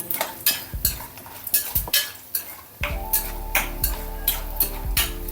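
Cashews, chana dal and urad dal frying in hot oil in a pan for an uddu anna breakfast, a steady sizzle broken by repeated sharp clinks and scrapes of a spoon stirring, close and unaccompanied by speech.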